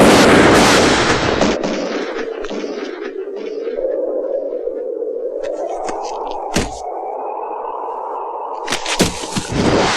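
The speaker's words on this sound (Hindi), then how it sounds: "अचानक गोली चलती है, धड़ाम।" A loud blast opens the clip and fades into a wavering tone, followed by a few sharp cracks near the end.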